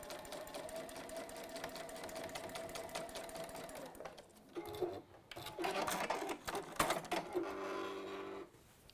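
Sewing machine stitching a quilt block, a fast continuous mechanical whir up close that stops briefly, then resumes in shorter runs with small clicks and handling sounds.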